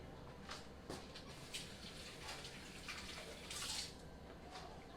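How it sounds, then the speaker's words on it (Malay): Water is poured into a pot of blended-fish curry with mixed vegetables, a faint, steady splashing wash of several seconds with a few slightly louder surges. "Okey, lepas tu kita bubuh air dalam ni"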